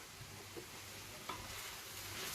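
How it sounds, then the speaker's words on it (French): Paella rice frying in a pan with onion, green pepper and olive oil, a steady low sizzle with occasional faint stirring knocks. "alors maintenant ندير الروز يتقلى"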